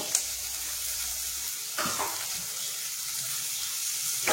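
Tomatoes sautéing with onion in a pan for a traditional Marathi val bhaji, a steady close sizzle with a stirring scrape partway through, no voices.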